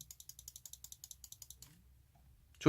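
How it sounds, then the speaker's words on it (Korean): Clicks from an Owl-Eye gaming mouse button, a steady run of about fifteen crisp, even, close ticks that stop, followed after a short pause by a louder burst of noise at the end. "자, 클릭업 같은 경우에는 오우라이 클릭 소리고요."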